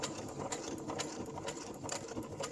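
A sewing machine stitches through a paper bag journal, a steady close whirring run of rapid needle strokes with small bursts, heard alone without talk.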